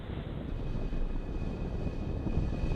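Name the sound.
SpaceX Falcon 9 rocket ignition and liftoff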